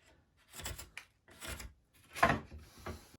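A pencil drawing a line on a wood panel, heard as a few separate scratchy strokes with short pauses between them, close and faint.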